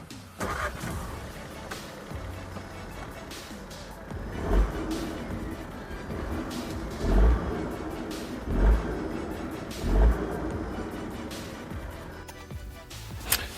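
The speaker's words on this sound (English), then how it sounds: "Let's start the car." A 2018 VW Polo TSi starts from the key and settles into a steady, fairly quiet idle, with a few soft low thumps and faint interior clicks along the way.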